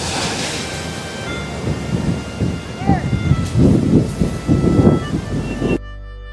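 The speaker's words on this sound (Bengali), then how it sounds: "দেখুন চন্দ্রভাগা বিচের উত্তাল সমুদ্র।" Rough sea waves crash at Chandrabhaga Beach near Konark, a loud roar of surf with rolling swells and wind buffeting the microphone, heard close by and continuous, under occasional voices.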